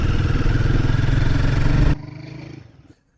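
A Guerrilla 450 motorcycle engine thumps loudly and close while riding, a steady throbbing pulse that abruptly drops away, then trails off into faint rumbling and near silence.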